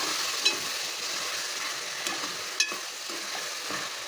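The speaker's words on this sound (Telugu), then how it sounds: "బంగాళదుంపలు టమాటాలు వేగుతుంది కదండి" Potatoes and tomatoes frying in a pan with ginger-garlic paste for a chicken potato curry, a steady soft sizzle with a few sharp stirring clicks, close and continuous with no talking.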